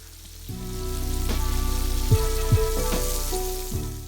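Pork chops frying in hot grease on a soul food stovetop give a steady, close sizzle with a few sharp pops and crackles standing out.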